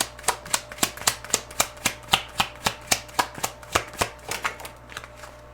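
A tarot card deck being shuffled: a rapid, even series of about seventeen crisp riffling snaps close by, fading slightly toward the end, with no talking.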